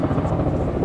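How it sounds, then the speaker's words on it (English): A Robinson helicopter flies overhead, giving a loud, steady low rotor thump that carries through the whole short moment. "Helicopter. Robinson."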